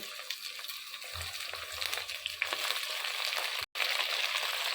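Onion, tomato and curry leaves sauté together in a pan for a fish curry, giving a steady, close sizzle with the occasional scrape and rustle of stirring throughout.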